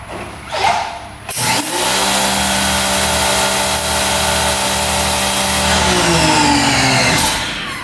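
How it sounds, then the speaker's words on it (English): A pressure washer is being tested on a mobile detailing trailer setup. After a brief knock it starts and runs loud and steady for several seconds with a strong engine drone, then tapers near the end, with no talking. "pressure washer just to test everything out"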